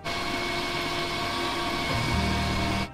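A Lamborghini Murcielago engine is cranked with the battery wired straight to the starter, giving a steady mid-level mechanical drone that shifts to a lower rumble near the end before cutting off abruptly.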